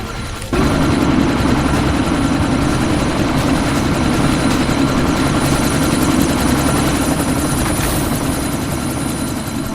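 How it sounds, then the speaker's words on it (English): A helicopter in the video game Deus Ex Mankind Divided, preparing to take off, gives a loud, steady, close rotor and engine drone that holds constant throughout, starting abruptly after a brief quieter moment. "That chopper's about to take off!"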